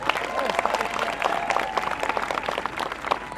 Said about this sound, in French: Je donne la parole, merci de l'applaudir s'il vous plaît.